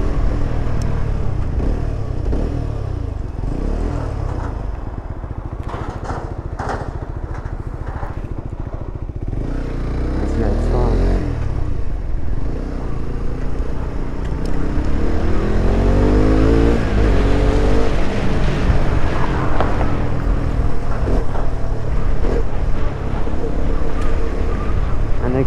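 A motorcycle rides through town in third gear at around 50, its engine droning loud and steady close to the microphone, with a rising pull and wind rush and a rider talking over it.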